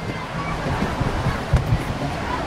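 A waterfall at Kalba's Hanging Garden produces a steady, broad rushing roar of falling water, continuous and fairly loud throughout, with faint voices underneath.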